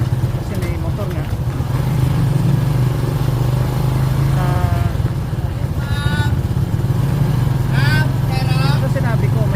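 A motorcycle engine rumbles loudly and steadily nearby throughout, and a person keeps talking over the constant drone.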